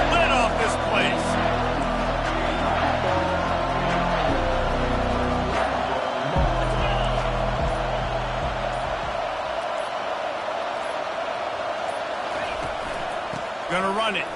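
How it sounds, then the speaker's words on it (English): A stadium crowd roars in the NCAA Football 25 video game, a dense sustained wash of cheering with deep rhythmic rumbles early on, under steady commentary talk. "Third down, and this crowd is tearing the lid off this place."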